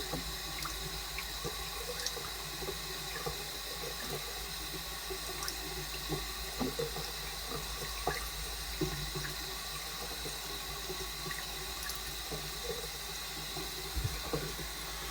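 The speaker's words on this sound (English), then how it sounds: "I rinse under running water" A straight razor rinsed under a running tap: a steady, moderately faint rush of water with small splashes and drips throughout, no speech.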